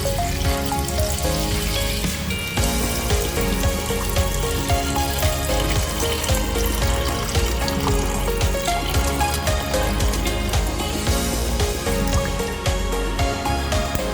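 Water pours steadily into a pot holding ginger and dried whelk for a Cantonese-style soup, making a continuous close splashing rush that lasts throughout at an even level.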